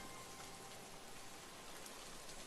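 Rain falls in a soft, even hiss, faint and continuous without any voices.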